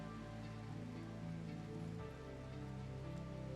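Heavy downpour in RimWorld, a steady wash of falling rain under a low sustained tonal hum, even throughout with no voices.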